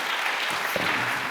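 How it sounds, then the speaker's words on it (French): An audience applauding steadily after a round-table discussion, a dense wash of clapping hands throughout, fairly loud and continuous. "Je vous invite à les applaudir."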